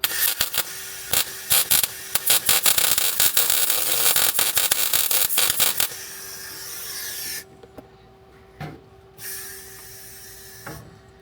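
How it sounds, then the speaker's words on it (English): Welder tacking steel bolts into steering stops for a 1967 Nova, welding poorly; loud sputtering crackle for about six seconds, then softer hiss and a few scattered pops and clicks as it trails off. "The sound of metal sticking together poorly."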